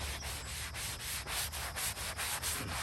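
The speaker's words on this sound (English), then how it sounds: "Just give it a light scrub." A brush, likely nylon-bristled, gives a veteran's headstone a light scrub in quick, rhythmic back-and-forth strokes, close and steady, with no talking.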